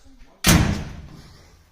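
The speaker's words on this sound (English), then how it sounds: "So I'll shut the door again." A door on a 1933 Chrysler slams shut in one sharp, solid thud that rings briefly in the body and fades, close by, after a short quiet lead-in.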